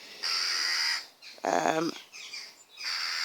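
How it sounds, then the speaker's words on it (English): Crows caw overhead outdoors near rocky cliffs, a few loud harsh calls in separate bursts, some close and some farther off, with no talking. "Other than crows overhead squawking."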